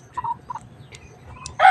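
Backyard chickens, stags kept on a small farm, give a few soft, scattered clucks close by over faint background noise, ending with a sharper, louder call.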